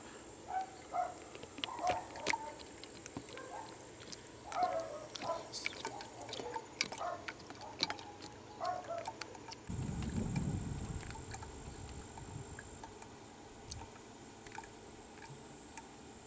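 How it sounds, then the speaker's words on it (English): Clean motor oil pouring into the engine of a 2003 Grand Am GT, faint gurgling and glugging with clicks and plastic jug handling, then a brief heavier splash. "I'm putting all 5 in because it's not going to take long for this to get diluted."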